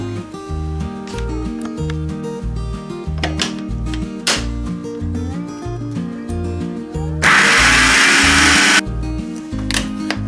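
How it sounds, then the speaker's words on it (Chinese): A kitchen blender purees soft-cooked red dates into paste, a close, loud motor hum with rhythmic chopping that surges into an intense high whir for a couple of seconds before settling back. "倒入料理机里面"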